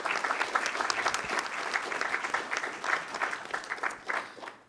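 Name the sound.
audience applauding at school board meeting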